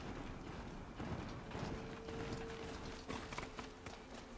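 A summoned horse in Horizon Zero Dawn clip-clops and runs in a steady, quiet rhythm of hoofbeats over a faint background, with no talking.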